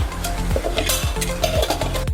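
Garam masala and red chilli powder are stirred in a pan for a pomfret fish curry, heard as quick, close scrapes and clinks of a spoon against metal over a soft sizzle.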